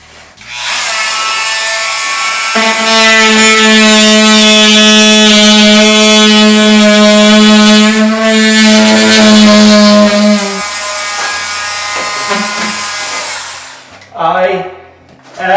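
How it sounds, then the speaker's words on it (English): Dremel Multi-Max oscillating tool cutting into a shower wall with short, steady buzzing passes, loud and close, running continuously for about eight seconds before stopping, followed by a few brief handling noises. "It is a Dremel Multi-Max."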